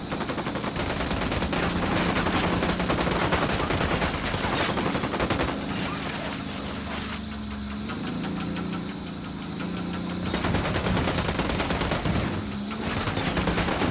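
Sustained automatic gunfire in the Ghost Recon video game, dense and loud, rattling almost continuously with a brief lull in the middle before heavy fire resumes.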